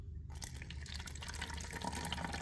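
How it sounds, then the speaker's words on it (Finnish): Water poured from above into a funnel set loosely in a bottle mouth, a steady splashing, gurgling stream that starts abruptly after a brief quiet moment and continues evenly at close range. "kaadetaan vettä suppiloon"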